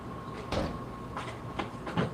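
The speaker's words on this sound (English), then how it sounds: "And then door opening noises." Door noises inside a house being filmed for strange sounds: several dull knocks and clunks spaced irregularly over low background hiss and a faint hum, with no one speaking.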